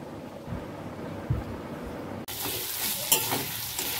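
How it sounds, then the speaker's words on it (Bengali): Potatoes frying in a pan in a home kitchen at night: quiet, muffled handling at first, then a sudden bright sizzle bursts in and continues steadily, with a few stirring scrapes. "তো আলু ভাজাটা বসিয়ে দিয়েছি।"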